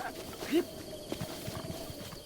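Video game horse hooves in Breath of the Wild clip-clop in a quick, light rhythm over a faint background hum, with a brief higher chirp early on.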